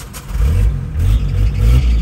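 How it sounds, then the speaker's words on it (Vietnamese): A 2008 Hyundai Porter diesel truck engine runs close and loud, its low rumble swelling and easing in short pulses over a couple of seconds, with no voices. "em nổ máy cho anh em mình nghe tiếng máy xe này luôn nè"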